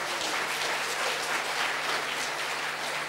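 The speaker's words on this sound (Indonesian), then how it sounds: "Boleh saudara sambut dengan tepuk tangan." Sustained applause from a wedding crowd greeting the bride and groom, a steady dense wash of clapping that holds at even loudness throughout, with no talking over it.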